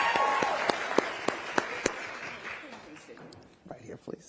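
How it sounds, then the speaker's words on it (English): Applause at a college presidents' town hall, a crowd clapping under a speaking voice with distinct sharp claps that fade out, followed by talking. "Give her a round of applause."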